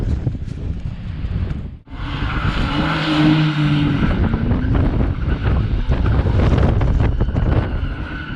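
A Mitsubishi Evo X doing donuts while drifting, its engine droning and revving loudly up close over heavy wind buffeting the microphone, with a brief dropout early on and no talk.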